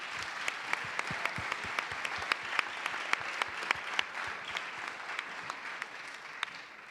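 Audience applause closing out a startup pitch competition finale, a steady wash of many hands clapping with individual claps standing out, moderately distant and continuing evenly without talk.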